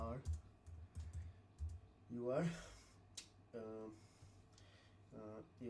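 Someone types a prompt on a computer keyboard with faint, quick key taps in short clusters. A person talks intermittently over the typing.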